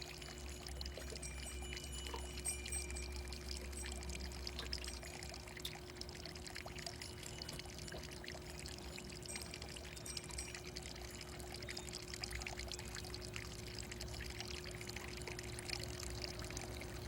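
Spring water flows inside a house in a Japanese satoyama village, a faint, soft, continuous trickle with a low steady hum beneath it and no voices.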